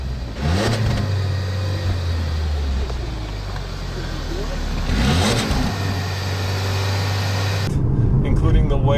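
A 2015 Lincoln MKC engine held at full throttle, a sustained mid-pitched drone with road and cabin noise, rising slightly before easing near the end.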